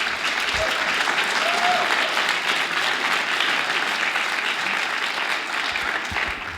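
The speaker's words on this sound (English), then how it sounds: "Give yourself a round of applause." A crowd claps and cheers steadily for several seconds, a dense, sustained wave of applause.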